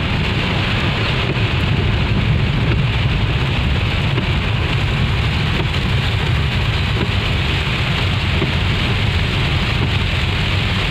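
Heavy rain pours steadily during a drive in a Suzuki Esteem on a road to a pine forest, a loud, dense, continuous wash with low rumbling throughout and no voices.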